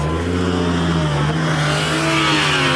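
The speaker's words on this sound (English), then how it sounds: "That BMW engine hitting rev limiter" A BMW engine roars loudly at high revs on the rev limiter, its pitch holding and wavering near the top, a harsh sustained drone close by, leaving a Cars and Coffee meet.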